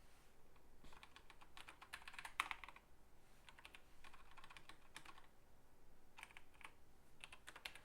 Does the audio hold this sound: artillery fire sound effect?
no